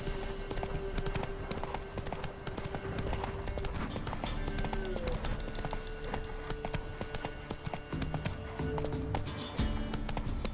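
Rhythmic clip-clop of Roach, the horse in The Witcher 3, galloping steadily at close range, with layered game sound and faint speech now and then underneath.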